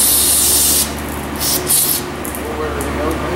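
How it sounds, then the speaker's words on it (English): Brake cleaner sprays from an aerosol can during plumbing and header work on a Road Runner, a loud close hiss at first, then several shorter bursts, with a voice speaking over it. "Some brake cleaner."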